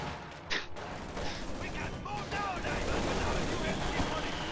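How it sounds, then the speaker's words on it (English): Mortar and gunfire in a multiplayer strategy video game: a steady bed of distant battle noise with scattered gunshot bursts and a sharper report near the start, mixed under talk. "I heard a heavy mortar, yes, it's right there."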